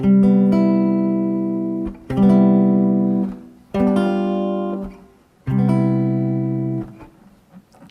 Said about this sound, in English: what a 5/7 chord sounds like and what a major 7 chord sounds like